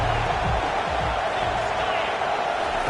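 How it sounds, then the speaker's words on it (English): A football stadium crowd roars for the Iowa defense on third down, a dense, steady wall of cheering that stays loud and unbroken throughout. "Decibels rising as the crowd gets behind this defense on third down."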